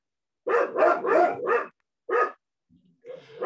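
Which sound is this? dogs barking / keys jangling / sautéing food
dogs barking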